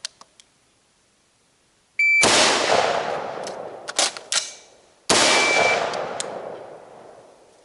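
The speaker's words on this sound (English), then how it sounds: "On target, fire one shot." A new rifle with hard iron sights fires two loud, sharp shots at a target on a range, each preceded by a short electronic timer beep and trailing off in a long echoing decay.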